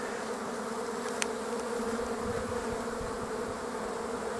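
Honeybees hum around the hives at an apiary on a warm late-March day, forming a dense, steady drone that stays level throughout, with no voices.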